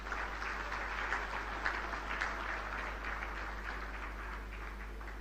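A crowd applauds at a ceremony for an oil refinery's first crude oil berth, a sustained blur of many clapping hands over a constant low hum, heard at a distance without a break.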